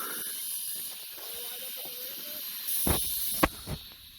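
A steady hiss with faint bubbling of a car's engine coolant boiling and venting steam, with a few sharper bursts of spray near the end.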